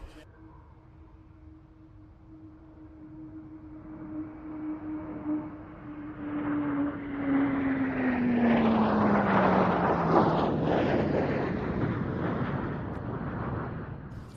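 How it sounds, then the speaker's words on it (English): A PR9 Canberra with two Rolls-Royce Avon 206 engines and a T7 Hunter jet pass at an air show, a rising, swelling jet roar with a descending whine building to a loud broad rush before easing slightly. "look out to your left now to see the magnificent sight of a PR9 Canberra, a T7 Hunter in the colours of the Mid-Air Squadron"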